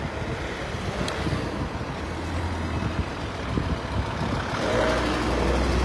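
Busy traffic moves along a street in Dnipro, trucks among it. Engines rumble and vehicles pass at middle distance under steady wind buffeting the microphone, with a heavier truck drone building near the end.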